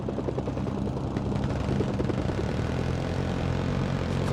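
Scout helicopter in the Mercenaries 2 video game, a steady loud rotor and engine drone with rhythmic blade chop running through the whole stretch, no talk over it.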